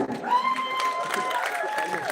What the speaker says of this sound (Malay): Berikan tepukan gemuruh